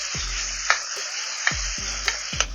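Sliced tomato sautéing with onions in a pan for vegetable biryani, an even hissing sizzle punctuated by four or five distinct clanks of a spoon stirring against the pan.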